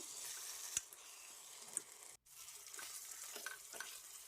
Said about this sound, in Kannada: ಈ ರೀತಿ ಟರ್ನ್ ಮಾಡಿ ಇನ್ನೊಂದು ನಿಮಿಷ ಇದನ್ನು ಫ್ರೈ ಮಾಡ್ಕೋಬೇಕು